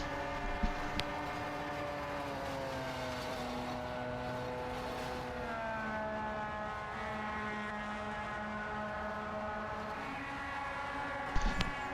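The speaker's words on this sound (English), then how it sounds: "It sounds like there is a rod trapped in that engine." A race car engine running rough, apparently with a trapped rod, drones steadily with a wavering pitch, continuous and fairly loud, ending in a short knocking burst.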